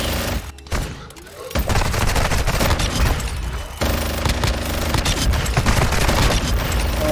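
Heavy video game gunfire, including a minigun, roars in sustained rapid bursts, loud and close, with a short break near the start and another mid-stretch before the dense firing resumes.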